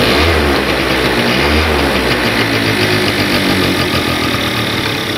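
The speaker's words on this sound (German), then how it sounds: "jetzt benutze ich mal den Kickstarter und dann werdet ihr hören, dass dieses Geräusch nicht da ist und die Karre auch dementsprechend schnell anspringt" Pegasus Sky 50 scooter engine running after a kickstart, a steady close mid-pitched idle with faint revving pulses throughout.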